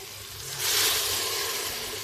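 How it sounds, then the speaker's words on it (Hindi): Water poured into a pan of browned, frying potatoes and eggplant sets off a rising hiss and sizzle that swells midway and then holds steady, with no voices. "तो अभी इसमें मैं पानी ऐड करूँगी।"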